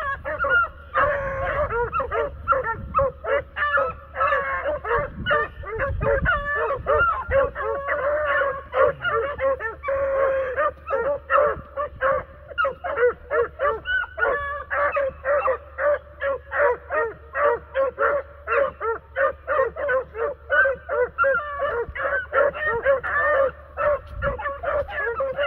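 Several working dogs bark continuously in a dense, overlapping chorus with yips and whimpers, loud and close throughout, one rabbit-hunting pack of dogs.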